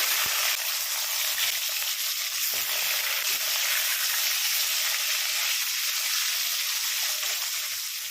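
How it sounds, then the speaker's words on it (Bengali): Shol fish frying in well-heated oil in a kadai, a steady, dense, close sizzle running throughout with a few faint clicks. "তেল ভালো মতো গরম হয়ে গেলে মাছগুলোকে ভেজে নিচ্ছি।"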